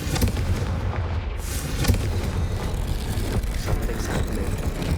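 A Confringo fire spell explodes in the Hogwarts Legacy video game amid dense, loud battle noise, with booming blasts and crackling bursts layered over a continuous rumble.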